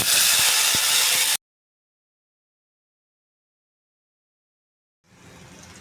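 Tomato hits a hot tempering of asafoetida, turmeric and curry leaves for a jackfruit seed amti, with a loud, dense sizzle for over a second, then silence before a quieter, steady hiss returns.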